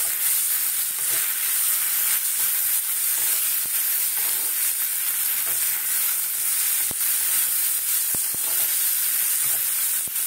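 Dry lentils (chana dal, moong and masoor) frying in a pan, with a steady loud sizzle and hiss throughout and occasional faint scrapes of stirring.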